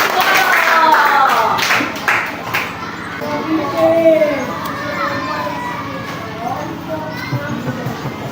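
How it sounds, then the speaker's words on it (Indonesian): Children in an Indonesian classroom clap for a classmate, a burst of many hands for a few seconds that gives way to lively children's chatter and voices filling the room. "semuanya tepuk tangan untuk teman kita"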